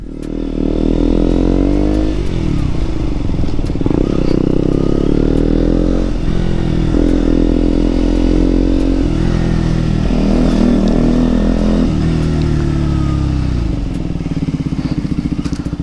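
A KTM Duke 125 motorcycle engine drones loudly and steadily on a group ride, its pitch rising and falling through repeated gear changes and revs, close and continuous with no talk.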